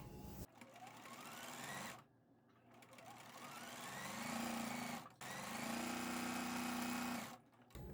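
A freshly oiled and cleaned sewing machine stitches down a scrap patchwork pillow piece, running in steady bursts with brief pauses between, close and fairly quiet with a low motor hum.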